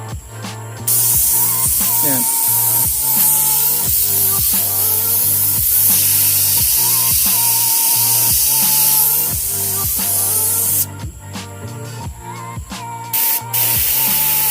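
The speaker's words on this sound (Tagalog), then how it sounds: "Gamit tong pang airbrush na spray gun." An airbrush spray gun sprays black paint onto a motorcycle crankcase in a long, loud, hissing blast with a rhythmic pulsing underneath that cuts out briefly near the end, while someone speaks a word.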